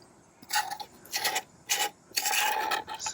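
A metal scraper rasps thick grime from the inside of a Mini Cooper S gearbox casing in several short, close scraping strokes separated by brief pauses.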